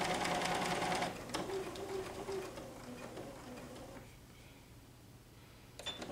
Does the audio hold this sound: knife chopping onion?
no